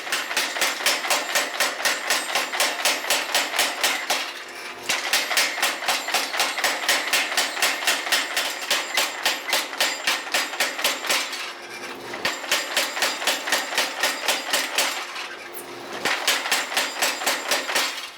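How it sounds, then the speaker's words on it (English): A hammer forging a taper on a steel bar, striking in a fast, even metallic rhythm through long runs broken by brief pauses, loud and ringing, with a faint low hum beneath and no voices. "forge it down roughly to the finished dimensions I'm looking for"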